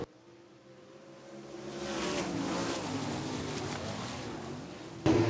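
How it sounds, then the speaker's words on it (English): A 360 sprint car field starts racing at Wagner Speedway in 2018, engine roar swelling into a sustained, layered drone before a sudden loud blast right at the end. "Frank Galusha leads them off in number 4. Thomas Kennedy, Jack Dover, John Clabundy, Kevin Engel, and let's go racing."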